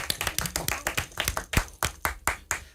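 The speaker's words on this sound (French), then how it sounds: "Bravo, on applaudit." A small studio audience on a French TV show claps in a fairly regular rhythm, about four sharp claps per second, close and distinct rather than a blended roar.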